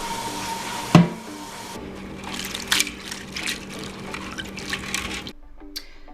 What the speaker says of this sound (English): just cover them with the water, let them sit there.